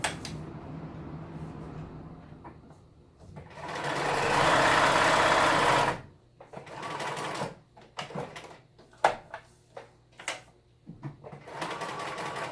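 Home sewing machine stitching in reverse on a Halloween costume: a steady motor whir for a couple of seconds, then a string of short bursts and stops, with quieter handling between runs.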